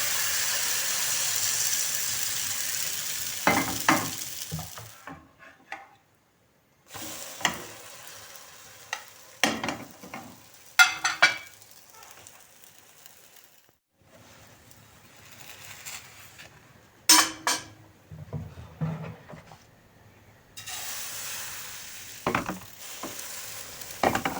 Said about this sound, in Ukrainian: починаємо смажити